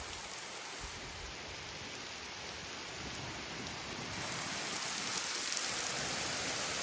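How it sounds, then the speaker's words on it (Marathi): Heavy monsoon rain pours near the Devli bridge at Chipi in Konkan, a steady, dense hiss of drops that swells slightly louder toward the end, with no voices. "केवढो पाऊस इलो बघा जाता जाता."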